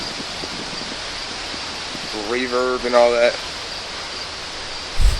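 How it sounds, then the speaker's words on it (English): Steady outdoor wind roaring as a broad, constant rush, with a voice speaking briefly over it and a gusting buffet at the end. "And it's fucking windy out here."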